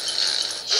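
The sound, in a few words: pitbull dog barking in the video game Pixel Gun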